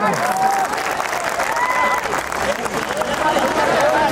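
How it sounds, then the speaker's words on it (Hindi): A large rally crowd in Kudari, Durgawati, Kaimur district, Bihar, applauds to welcome an artist. The clapping is loud and continuous across the whole stretch, mixed with crowd noise and some tonal sounds. "आप लोग जोरदार ताली बजा के स्वागत करने का काम करें।"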